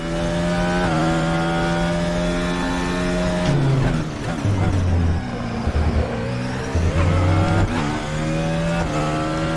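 An FRX22 race car screams around Imola in RaceRoom, its engine revving high through gear changes with drops and climbs in pitch, loud and continuous throughout with brief tyre noise.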